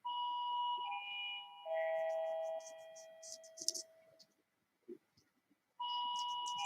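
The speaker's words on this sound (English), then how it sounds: "the doorbell's going mad" A two-tone electronic doorbell chimes loudly, rings again, then briefly goes quiet with a few clicks before chiming once more.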